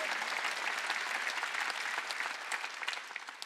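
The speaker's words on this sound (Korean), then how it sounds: "박수 치라. 이거 박수 치라." A church congregation at a Wednesday worship service claps together in a dense, steady burst of applause that stays strong and then tapers slightly toward the end.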